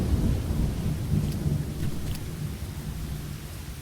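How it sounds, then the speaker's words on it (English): Rain and thunder in the video game Lost Horizon: a heavy, continuous downpour with deep rolling rumbles of thunder, loud and close throughout. "If it doesn't stop raining, this barrel is going to overflow."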